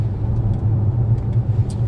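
Porsche Taycan electric car driving on an open road in sport mode, a steady low rumble of road and drivetrain noise heard from inside the cabin, fairly loud and even.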